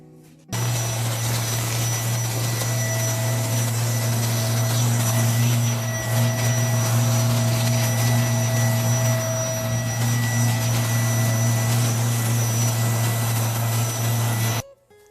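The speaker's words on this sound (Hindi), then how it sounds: "आधा घंटा हो गया है, चले आए इसको वैक्यूम करते हैं" A vacuum cleaner runs steadily on a bed, drawing baking-soda powder off it with a loud, constant motor whine and hum that starts abruptly and stops near the end.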